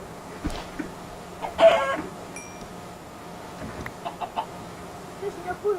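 Chickens in the video game Minecraft cluck in a few short, scattered bursts over a low, steady game ambience, with faint sounds in between.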